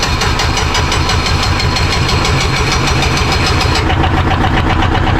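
A boat engine, back running after the boat sank, chugs loudly and close with a rough, rapid knocking idle that stays constant throughout.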